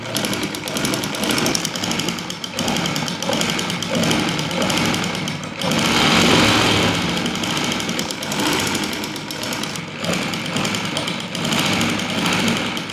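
A sewing machine stitches a motorbike seat cover for a 125 Kat in a steady, rattling whir. It runs in close, loud bursts with brief pauses.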